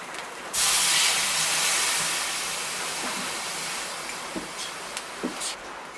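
Fermented fish for Napam Batun, a Bodo dish, hits a hot pan with a sudden loud hiss that eases into a steady sizzle, broken by a few soft pops and crackles near the end.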